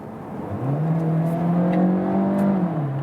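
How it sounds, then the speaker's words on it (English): DS7 Crossback plug-in hybrid's combustion engine kicking in under hard throttle, a low steady drone rising in pitch then holding as the car accelerates, heard from inside the cabin without talking. "even in the electric mode, the combustion engine hops on"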